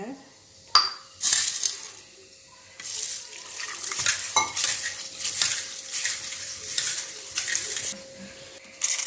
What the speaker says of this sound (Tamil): இந்த கொள்ளை வந்து ஒரு கழுவு கழுவிக்கிறலாங்க